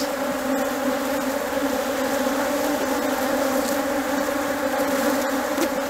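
Honeybees in an opened, strong hive with lots of mature brood hum as a dense, continuous buzz that stays loud and close throughout, with no talking.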